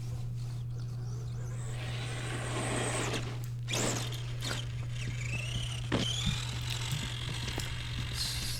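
Redcat Everest 10 RC crawler truck running at full throttle on a trail, a steady electric motor whine with gear rattle and rising pitch sweeps, accompanied by a constant low hum.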